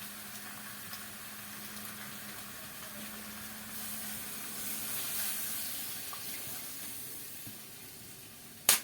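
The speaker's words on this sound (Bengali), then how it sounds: "এবার আমি জল দিয়ে দেবো।" Water poured into a sizzling pan of village-style chicken curry makes a steady hissing rush that swells midway, then fades and ends with a sharp clatter.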